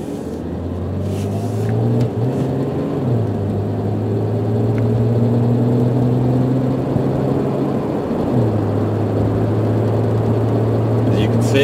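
A 1996 Jeep Grand Cherokee 4X4 pulls onto the highway, its engine rising through smooth gear shifts toward cruising speed, heard loud from inside the cabin with steady road noise.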